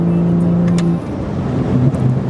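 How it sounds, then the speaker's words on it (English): BMW N55 335i with turbo whoosh and diverter valve chatter, heard from inside the car as the engine revs and pulls hard, a steady loud drone with sharp brief hissing bursts over it. "Those are turbo sounds, right? Yeah, it's the diverter valve."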